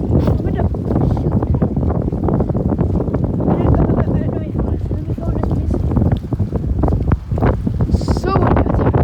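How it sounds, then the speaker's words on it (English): Strong wind gusts buffet the microphone on a stormy beach by a dock, a loud continuous roar with surf beneath it and a person speaking briefly over it. "So windy out there."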